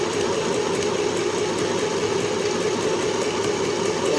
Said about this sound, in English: Put down my foot. That. No, it's big. And I'll start sewing.